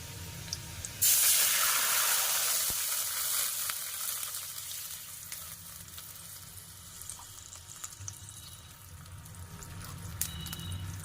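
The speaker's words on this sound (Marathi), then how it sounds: "पाणी ओतून घ्यायचं याच्यामध्ये" Water is poured into a hot pan of fried garlic and cumin, setting off a sudden loud hissing sizzle that slowly fades into a quieter bubbling crackle, with faint clinks near the end.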